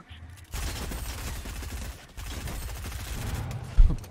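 Rapid automatic gunfire from a Fortnite match, a dense low-pitched rattling stream in two long bursts separated by a brief gap, ending with a sharper, louder shot.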